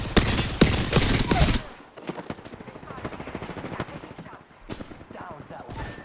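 Automatic weapon fire from Apex Legends gameplay bursts rapidly and loudly at first, then continues as scattered shots and game effects, with voices talking over parts of it.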